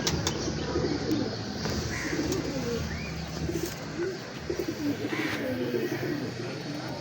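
Dub pigeons in a loft at a Kasur fancier's, soft cooing and occasional wing flaps drifting through steady background noise for several seconds, with faint voices now and then.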